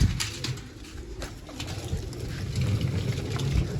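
Pigeons coo in low, throaty rolling calls as they are fed grain and water, several birds close by, with soft scuffling and a faint engine-like hum in the background.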